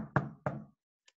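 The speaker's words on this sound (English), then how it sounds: "Then somebody knocking on the door." Two quick knocks on a door, fairly faint and close, with a short gap between them, then a tiny tap after a pause. No one speaks.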